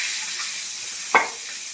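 Eggplant pieces frying in hot oil give a steady, faint sizzle, and one brief louder crackle bursts out partway through as a piece goes into the pan.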